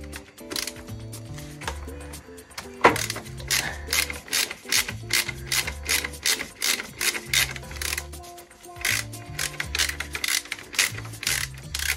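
Bolts are worked loose on a Thrust Blitz 115 motorcycle during valve and filter service, with repeated rhythmic ratchet clicks in short bursts, close and crisp, pausing between strokes, with no speech.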